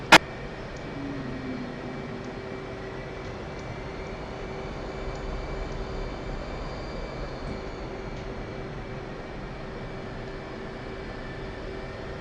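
Steady engine whine of an F/A-18C jet taxiing to the ramp in the DCS flight simulator, a continuous even drone with a faint hum, one sharp click at the start.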